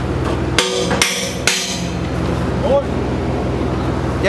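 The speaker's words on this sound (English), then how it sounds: "Hit it on the other side, Daniel." A hammer strikes a pipe joint three times in quick succession to set the weld gap on a rig welding job, sharp loud metallic bangs over steady engine and machinery noise.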